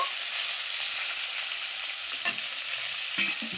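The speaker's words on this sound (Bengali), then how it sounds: "এগুলো বাদ বাকি মাছগুলো ছেড়ে দিচ্ছি। খুব সুন্দর করে ভেজে নেব" Pieces of snakehead fish, seasoned with turmeric and salt, frying in hot oil. A steady, close hiss of sizzling runs throughout, with a couple of faint clinks near the end.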